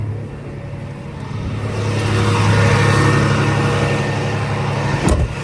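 A farm service truck drives out to a broken-down combine during soybean harvest, its engine droning steadily near and loud and building slightly, with a brief knock near the end.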